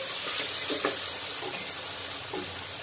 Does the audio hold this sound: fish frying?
yes